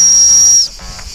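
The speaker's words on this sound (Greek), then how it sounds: "Και έχεις λοιπόν πάντα πρόχειρη τη σφυρίχτρα μέσα στο tactical pen." A shrill whistle built into a tactical pen, meant for calling and training dogs, sounds as one loud, steady high-pitched blast for about half a second, then cuts off into faint room noise.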